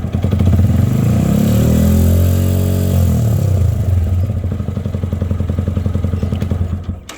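A motorcycle engine connected to a lithium battery charging setup is revved hard, a loud sustained roar rising and then settling into a steady fast idle with rattling clatter, close by and alone.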